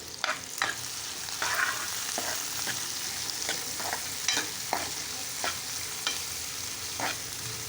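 Onions frying in a pan for an egg curry: a steady close sizzle broken by repeated sharp scrapes and taps of a spatula stirring every second or so, with no one talking.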